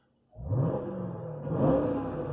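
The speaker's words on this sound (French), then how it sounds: "on a un V8 6 litres 2, je l'ai dit, avec le compresseur. Donc le bruit, hop" Supercharged 6.2-litre V8 of a Jeep Grand Cherokee Trackhawk revs up with a deep, loud rumble, holding a steady roar, then swells again briefly near the end.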